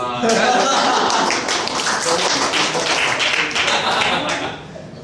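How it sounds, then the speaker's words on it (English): An audience claps hands during a training session on building and developing builders. Dense, fairly loud clapping runs through nearly the whole span and thins out toward the end. "Clap hands, please."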